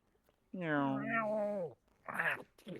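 People imitate cat meows with drawn-out, whiny voices, one long mewing call followed by a shorter one, close by.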